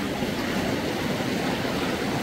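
A flooded river swollen after a long winter rushes past in a steady, dense, broadband roar, close and continuous with no pauses.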